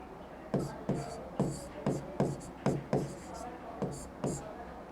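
Chalk or marker strokes on a board during a calendar reasoning lesson: about nine quiet, evenly spaced scratchy taps in a steady rhythm, alone in a quiet room.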